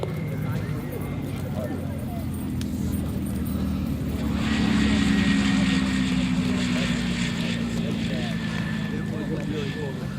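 A P-51 Mustang named Never Miss lands on a turf airfield at an airshow, its propeller engine droning steadily and swelling slightly midway, heard at a distance beneath an announcer's commentary.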